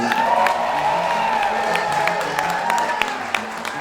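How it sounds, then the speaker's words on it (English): Wedding guests applauding for the bride, a dense burst of clapping mixed with a sustained tone and occasional whoops throughout. "Can I just get a big round of applause for Adele, please?"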